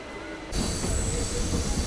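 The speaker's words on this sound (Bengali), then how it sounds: "রামনগর থেকে আমাদের ট্রেন ছেড়ে বেরিয়ে গেল।" A Howrah–Digha local train pulls out of Ramnagar station, rail noise swelling suddenly into a loud, high wheel squeal over rumbling carriages, heard from on board.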